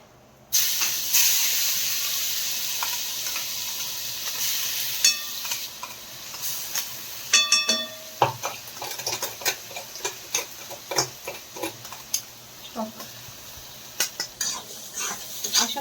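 A turmeric mixture in a pan is stirred over a low gas flame: a soft steady hiss with scattered spoon scrapes and clinks against the pan, growing more frequent toward the end.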